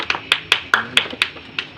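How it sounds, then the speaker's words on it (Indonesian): Sparse classroom clapping during an eighth-grade biology microteaching lesson, about seven separate claps in an uneven rhythm, close and fairly loud, with no talking. "beri tepuk tangan"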